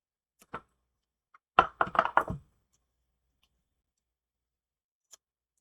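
Scissors snipping through paper while making a card: one crisp cut, then a quick run of four or five snips, and a faint final snip after a long pause, in a quiet room.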